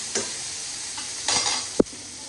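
Dangar bhaji being stirred in a pan, a soft sizzle under a few scraping strokes of a spoon and one sharp clack against the pan near the end.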